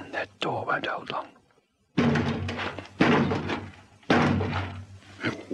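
In a radio drama, a door is battered from outside with heavy repeated thuds and slams, spaced about a second apart, loud and close, with people talking over them.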